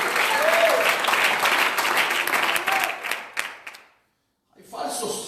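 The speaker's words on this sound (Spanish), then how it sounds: "Palmas al Señor en esta predicadora." A church congregation at a Spanish-language sermon applauds loudly and steadily for about four seconds, then falls silent before a brief renewed swell of sound.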